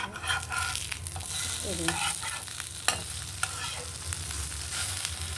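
Food fries in ghee on a pan with a steady sizzle, scraping stirs and a few sharp clinks, while a voice briefly speaks once.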